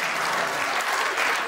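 Steady, dense clapping from a large audience at a comedy taping, loud and continuous with no voices on top.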